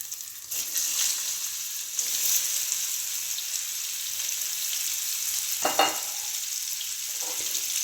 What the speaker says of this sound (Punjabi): ਦੋਸਤੋ ਇਸ ਨੂੰ ਹੌਲੀ ਹੌਲੀ ਲੋ ਫਲੇਮ ਤੇ ਭੁੰਨੀ ਜਾਣਾ ਜਦੋਂ ਤੱਕ ਕਿ ਆਪਣੇ ਆਮਲੇ ਚੰਗੀ ਤਰ੍ਹਾਂ ਸੁੱਕ ਨਹੀਂ ਜਾਂਦੇ